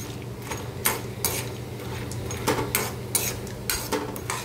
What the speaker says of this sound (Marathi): तेल गरम झालं की त्याच्यामध्ये सांडगे टाकून आपण बारीक गॅसवरती सांडगे चांगले तळून घेऊया